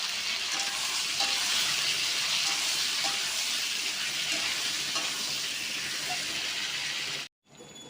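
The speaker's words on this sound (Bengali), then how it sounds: "টমেটো ওটা দিয়ে দেবো একসঙ্গে ভেজে নেবো" Potatoes, onions and tomatoes fry together in a pan with a constant, lively sizzle and faint stirring scrapes, broken by a brief drop to near-silence near the end.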